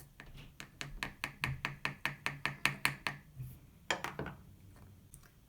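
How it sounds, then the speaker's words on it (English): Sugar rocket propellant is pounded down in layers inside a tube, giving a quiet, steady run of about a dozen sharp knocks followed by a few scattered taps, close and with no talking. "you're going to take little bits and pound them down into layers"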